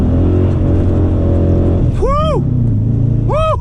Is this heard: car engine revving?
yes